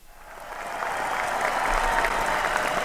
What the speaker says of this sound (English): An astounding round of applause for those steaks and chops.